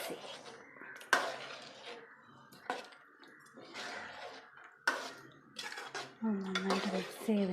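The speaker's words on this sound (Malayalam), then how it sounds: "നമുക്കിത് നന്നായിട്ട് മിക്സ് ചെയ്യാം." A spoon stirs chicken masala in a pan, producing intermittent scrapes and metallic clinks at close range, with a brief voice heard between the strokes.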